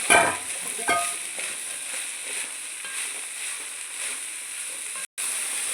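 Capsicum and cabbage stir-frying for chicken fried rice, a steady close sizzle with a few scraping stirs near the start, continuous and moderately loud until a brief cut near the end.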